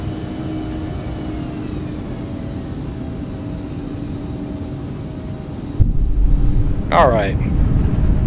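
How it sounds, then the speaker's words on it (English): In X-Plane 11, an Embraer E145 airliner cruises down with a steady engine hum, then touches down with a sudden rise into a louder rushing roar as the thrust reversers deploy. A voice speaks briefly. "We got a touchdown. Reversers are on."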